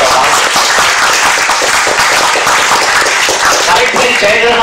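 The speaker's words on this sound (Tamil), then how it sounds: "அதுக்கு நீங்க ஒரு கைதட்டு" Loud, dense crowd applause at a Tamil film audio launch event for Aaram Arivu, filling the whole stretch with continuous clapping while a voice speaks over it.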